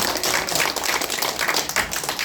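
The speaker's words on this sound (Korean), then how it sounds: "다시 한번 큰 박수 부탁드립니다" An audience at an AI seminar gives a round of applause, with steady, moderately loud clapping from many hands that continues briefly without a voice over it.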